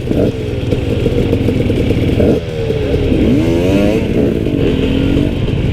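A KTM 250XC two-stroke dirt bike engine runs loud and close, with a raspy idle and rising, falling revs and blips throughout, heard alone with no talk.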